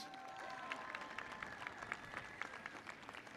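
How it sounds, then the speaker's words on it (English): Graduation ceremony crowd in a large hall gives faint, distant applause for a graduate, a soft steady patter of many hands with a few sharper claps, while a tone hums briefly at the start. "Jose Ramos, applause please."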